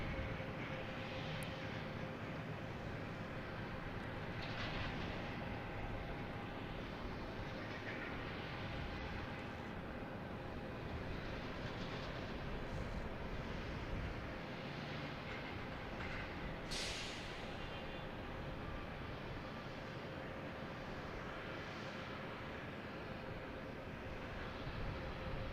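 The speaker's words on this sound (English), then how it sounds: "Here's an E-175 American Airlines flight 4721 heading to JFK." American Airlines Embraer E-175 regional jet taking off at Boston Logan bound for JFK, a steady broad engine roar that holds level throughout, heard from a distance with no voices.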